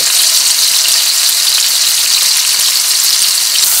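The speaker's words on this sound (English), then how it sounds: "And I will fry them now from all sides for roughly 5 minutes." German cabbage rolls frying in a pan, a loud, close, continuous hiss of sizzling fat that stays even throughout, with no talking.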